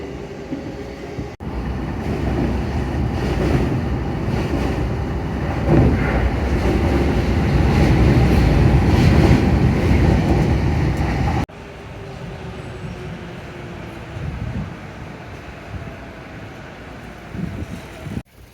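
Ride aboard a train in Tokyo: a steady rumbling rail drone with wheel noise throughout, loud for most of the stretch, then dropping to a quieter hum after an abrupt cut, with no talking.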